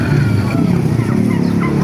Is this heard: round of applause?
no